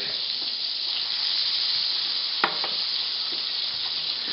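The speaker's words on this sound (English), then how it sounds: "I got my butter going. First thing's going to go in, of course, garlic." Garlic sizzles steadily in hot melted butter in a pan, a close, even hiss that runs throughout, with one brief clink of a utensil partway through.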